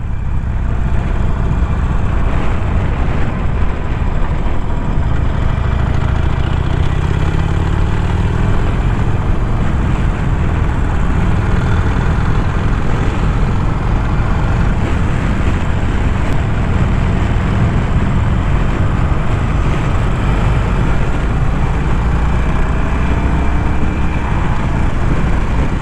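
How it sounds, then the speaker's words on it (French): A Harley-Davidson Forty-Eight Sportster 1200 motorcycle engine runs close by, loud and continuous with a steady low rumble throughout, with no talking. "la moto c'est une Harley Davidson 48 Sportster"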